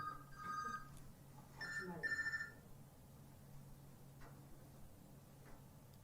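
A mobile phone ringtone goes off during an evening Sunday church service, a few short electronic ringing bursts in the first seconds over quiet room noise, then fading to a hushed background.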